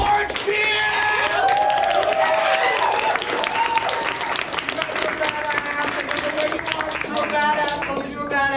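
Crowd at a live music show at Roboto in Pittsburgh claps and cheers for several seconds, dense steady applause with whoops, while a loud voice calls out over the noise at the start.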